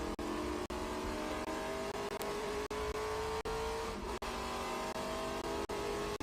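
Trans Am TA2 race car lapping Watkins Glen, heard on board as a loud, steady engine drone with shifting pitch and sharp periodic clicks or bumps throughout.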